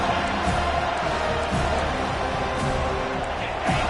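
A football stadium crowd at a college game roars in a steady, broad wash of cheering and noise that holds evenly for several seconds, with no single voice standing out.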